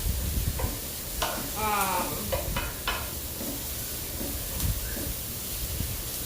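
Risotto rice is stirred around a hot skillet on low heat: a soft sizzle runs throughout, broken by scraping strokes and light utensil knocks at an irregular pace.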